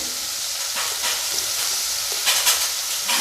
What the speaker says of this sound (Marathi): आता हा कांदा मी थोडासा नरम होईपर्यंत परतून घेते